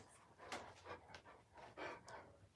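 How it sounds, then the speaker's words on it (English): A dog pants rapidly and audibly close by, with a rhythmic series of breathy huffs at a soft level and no talking over it. "Roscoe, stop breathing so loud. The people don't want to hear you breathing loud."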